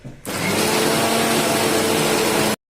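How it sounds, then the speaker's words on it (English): An electric mixer grinder whirs steadily as it grinds onions in a home kitchen, a loud continuous motor drone with a constant pitch that starts abruptly and then stops cleanly after about two seconds, with no voices over it. "I'll be grinding the onion as well as the tomato separately."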